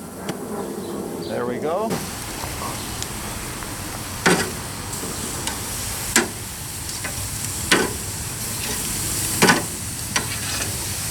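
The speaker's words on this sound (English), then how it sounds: "Kebabs go on, just like this." Pork shoulder kebabs marinated with Vidalia onion and garlic sizzling as they are laid on a charcoal grill, a steady crackling hiss with periodic sharp clacks as each skewer goes down; someone speaks briefly.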